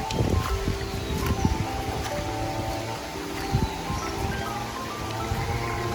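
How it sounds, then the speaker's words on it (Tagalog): Soft, steady patter of rain falling outdoors on a steep, slippery hillside property in Mulanay, Quezon, a faint continuous hiss with scattered small ticks and rustles nearby. "At umuulan."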